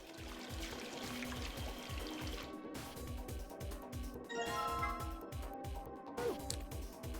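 Water pouring in the puzzle game Zero Escape: Virtue's Last Reward, a steady trickling stream running for several seconds over a looping rhythmic music track, with a brief clink near the end.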